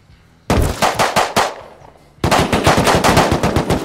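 Gunfire in the video game Rust: a short rapid burst of automatic shots, a pause, then a longer sustained burst of fast, loud, closely spaced rounds.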